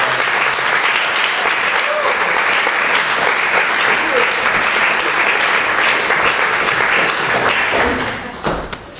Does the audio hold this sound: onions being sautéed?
no